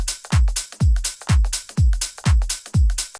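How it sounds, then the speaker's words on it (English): Dance-track percussion loop with tambourines and an offbeat hi-hat rides over a deep, pumping kick, bright shimmering hits recurring in a tight, even rhythm, loud and alone. "I've also got some percussion layers. I've got some tambourines. I've got the main offbeat hi-hat."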